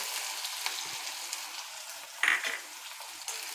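Cumin seeds and medium onion sliced lengthwise sizzle steadily in hot oil, a continuous close frying hiss with a brief louder spatter burst partway through.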